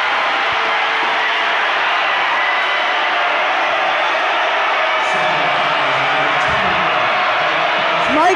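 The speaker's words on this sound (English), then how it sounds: "The crowd is going crazy." Crowd roaring and cheering at a boys high school basketball game between Naperville Central and Naperville North, a dense, loud, continuous wash of voices and whoops filling the gym throughout.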